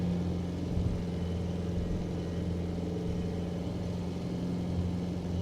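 An aircraft propeller engine running at full power in a flight simulator game, giving a steady, loud, unbroken drone with a constant low hum and no talking over it.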